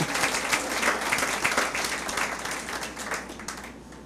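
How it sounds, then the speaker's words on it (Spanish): Congregation in a church service breaks into warm, continuous applause, many hands clapping together at moderate volume before gradually thinning out. "Dele un aplauso al Señor Jesús."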